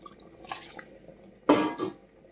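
Hot water poured into a pot of mutton curry, two short splashing bursts close by, the second louder, in an otherwise quiet kitchen.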